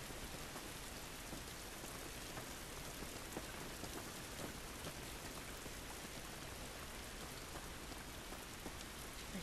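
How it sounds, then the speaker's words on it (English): Rain falls in the video game The Last of Us as a steady, dense wash of drops hitting surfaces, even and continuous from start to finish with no voices. "This rain ain't gonna do us any good."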